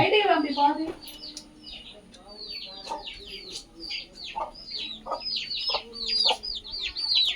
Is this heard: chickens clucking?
yes